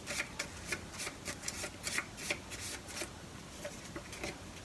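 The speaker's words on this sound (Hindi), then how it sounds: "ये कार्ड आ नहीं रहा है और शफल कर लेते हैं" Tarot cards being shuffled by hand, giving a soft repeated riffling and slapping of card stock in quick bursts, faint and close with no talk.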